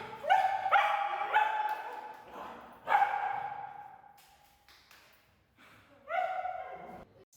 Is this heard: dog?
yes